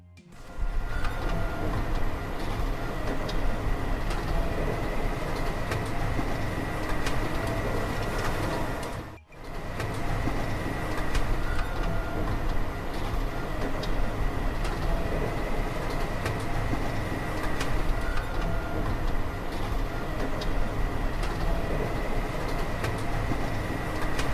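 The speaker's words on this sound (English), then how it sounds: "The machine grips the base of each dough triangle and smoothly rolls it from base to tip, creating a round coil." A croissant shaping machine rolls dough triangles into coils, giving off a continuous, even mechanical drone that cuts out for a moment midway before resuming at the same level.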